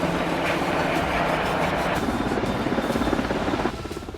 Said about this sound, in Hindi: यह है अगस्टा वेस्टलैंड का EH-101 हेलीकॉप्टर, जिससे कमांडो एक जंगी जहाज पर उतर रहे हैं।